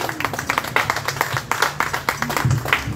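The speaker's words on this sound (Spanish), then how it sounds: "un aplauso, una ofrenda de palmas al Señor" Hands clap in a quick, fairly steady rhythm during a church worship service, moderately close, with other noise faintly behind.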